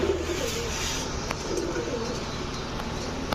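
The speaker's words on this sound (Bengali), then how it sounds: "এখন দেখাবো এক পেয়ার লাল প্লেন কবুতর" A pair of red plain pigeons, male and female, coo softly in repeated low calls close by amid a pigeon farm's background murmur, with no speech.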